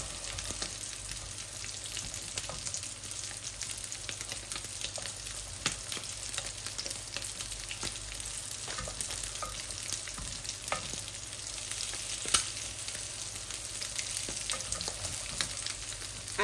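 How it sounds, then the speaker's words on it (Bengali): Onions fry slowly in a pan, a continuous gentle sizzle with scattered crackles and occasional stirring scrapes, close up, with no voices. "দেখুন আমার পেঁয়াজ গুলা আস্তে আস্তে ভাজা হোক"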